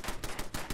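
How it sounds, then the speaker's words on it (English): Rapid gunfire from the video game Fallout 4, a quick run of sharp repeated shots in roughly even bursts, fairly loud with no voices over it. "Who's shooting me?"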